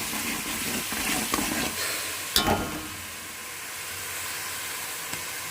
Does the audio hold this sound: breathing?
no